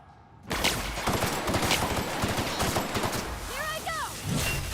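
Rapid automatic gunfire from a weapon in The Outer Worlds, a dense burst of shots starting abruptly after a quiet moment and continuing throughout, with robotic enemy sounds near the end.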